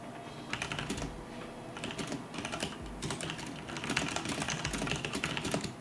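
Rapid clicking of keys on a computer keyboard, close and fairly quiet, in irregular bursts of strokes with short pauses and no talking.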